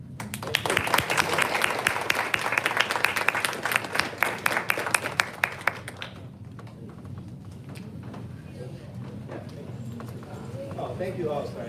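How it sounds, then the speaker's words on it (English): A seminar audience in a lecture hall applauds loudly for about six seconds, a dense rapid patter of claps that thins and stops, followed by quieter room sound and brief talking. "Give a big applause."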